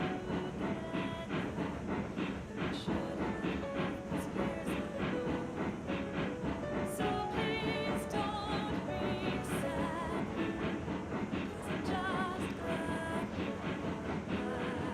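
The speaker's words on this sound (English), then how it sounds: "At least the chuffing sounds pretty good." Coal-fired steam locomotive on a morning run, a steady continuous rumble of chuffing and rolling rail noise with hiss and clicks throughout, moderately distant and without talk.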